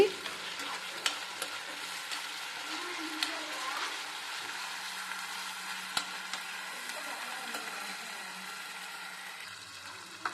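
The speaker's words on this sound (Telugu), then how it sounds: "ఇప్పుడు ఈ మిశ్రమాన్ని బాగా కలుపుకోవాలి" Jeera rice mixture with ginger-garlic paste stirred in a frying pan, a continuous soft sizzle with scattered light spoon taps and scrapes, steady and close.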